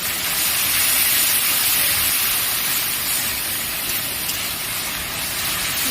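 Rohu fish frying with green chili paste in oil for a Bengali rui posto, heard as a dense, steady sizzle and hiss that holds evenly and fairly loud from start to finish.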